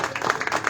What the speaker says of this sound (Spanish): yo les pido un aplauso para el maestro Calixto por su participación